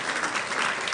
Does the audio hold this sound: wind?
no